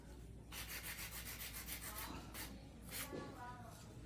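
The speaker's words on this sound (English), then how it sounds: "I wanna do most of my smoothing the surface down with my hand filer." Soft, rhythmic rasping strokes of a hand file smoothing an acrylic nail, quiet and close, in short repeated bursts with a brief pause.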